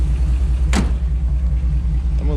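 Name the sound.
LS-swapped 1978 Chevrolet Malibu engine running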